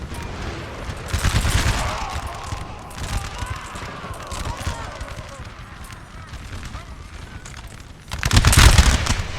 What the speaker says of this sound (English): French still firing